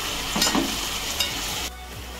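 Chopped onion sizzles and crackles in a hot pan as it is stirred and sautéed until golden brown, a close, steady frying hiss with a few stirring scrapes before the sizzle drops quieter.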